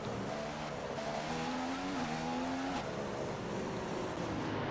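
A race car engine in a racing game at Singapore drones loudly and steadily as it enters the pit lane, its pitch dipping as it slows, with a brief tire squeal partway through.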